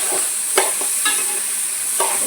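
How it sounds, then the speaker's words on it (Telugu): A spoon stirs chicken leg curry (kodi kaalu pulusu) in a pan, giving a few scraping strokes over a steady sizzle, close and clear with no talking. "ఒక్కసారి కలిపేసుకుందాం."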